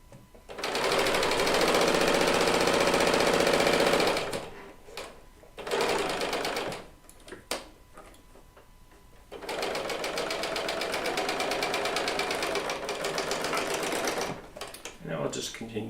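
A serger sewing machine runs in fast, loud bursts while chain piecing a quilt top, with pauses between runs and a voice talking in the gaps.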